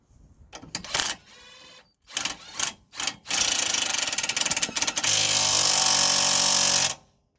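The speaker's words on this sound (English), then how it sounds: "just gonna secure the anti-roll bar linkage to the strut now" Power tool spinning a 19mm nut onto the anti-roll bar link of a Toyota Yaris, several short buzzing bursts followed by a long, loud continuous whir, close up and without voices.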